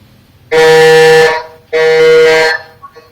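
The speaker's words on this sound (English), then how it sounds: "Alright, Drumil, the first one on the buzzer there." Two loud, flat electronic quiz-show buzzer tones, each about a second long, sounding close with a short gap between them.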